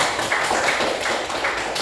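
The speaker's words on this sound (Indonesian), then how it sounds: "Beri tepuk tangan untuk kelompok 1" A classroom of students claps for a presenting group, a steady, dense patter of hands filling the room at close range, with no other sound over it.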